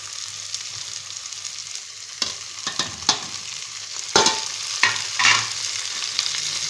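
Tomatoes sizzle steadily in a pan while a spoon scrapes and stirs them in irregular strokes, close and loud, with no talking.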